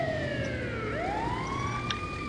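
An ambulance siren in a video game roleplay wails loudly and close, its pitch dipping and then sweeping back up in a single continuous tone over low traffic-like rumble, with no voices.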